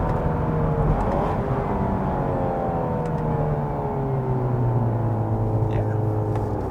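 A 2021 Hyundai Veloster N engine pulls hard through its 8-speed wet dual-clutch transmission, a loud continuous drone rising and sliding through gears, heard from inside the car.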